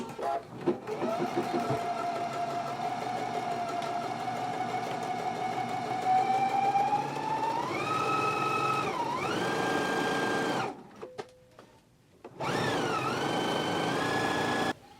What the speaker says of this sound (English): now we can go to the sewing machine and stitch it at a 5/8 of an inch seam allowance